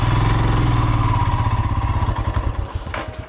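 Motorcycle engine idling close by, a steady low rhythmic thumping that slightly softens toward the end.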